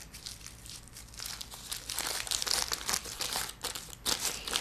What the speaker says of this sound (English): you're going to take your piece of wax paper and you're going to crinkle it all up in a ball